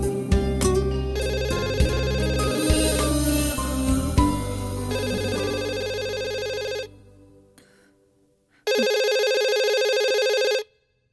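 A loud electronic phone ringtone plays a melodic pattern, stops briefly, then rings again for a couple of seconds before cutting off.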